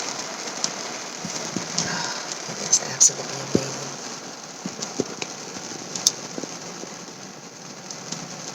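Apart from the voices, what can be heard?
rain hitting a car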